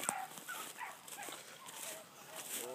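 Several hunting dogs chase a rabbit outdoors in Gloucester, Virginia, their scattered high yelps and whines carrying from a moderate distance against a steady rustling background.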